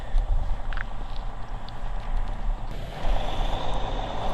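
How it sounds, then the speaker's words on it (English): A semi-truck rumbles past nearby, a heavy low engine drone that swells toward the end, with a faint high beeping tone near the start. "There has to be a semi-truck of all vehicles driving by as I'm trying to start this segment"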